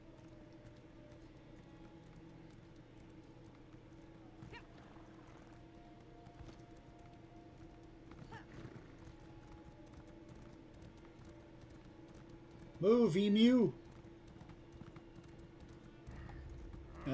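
Horse hooves clip-clop faintly and steadily in a video game over a low background hum, with a short, loud whinny-like cry near the end and a few brief spoken words.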